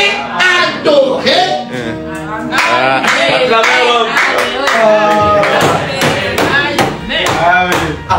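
Church congregation clapping along under singing and voices, a loud steady stream of hand claps with music-like tones throughout.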